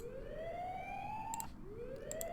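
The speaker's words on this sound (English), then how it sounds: "love the sirens, dude." A wailing siren sweeps upward twice in slow rising glides, steady and fairly faint in the background, with a couple of brief clicks.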